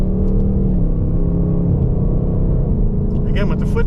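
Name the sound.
2023 Ford Mustang GT engine accelerating on the road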